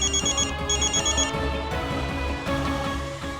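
A telephone rings in a repeated bell-like pattern, several bursts over a steady musical background, close and clear with no voices over it.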